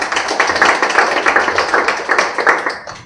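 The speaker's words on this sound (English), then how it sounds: "Guys, that deserves an applause." A small audience at a tech community panel claps in quick, steady rhythm for about three seconds, close and fairly loud, then the clapping breaks off.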